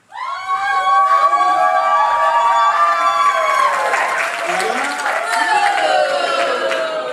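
An audience at a live law-school comedy show cheers and applauds loudly, with high shrieks and whoops riding over sustained clapping that swells and holds for several seconds; voices blend into the crowd noise.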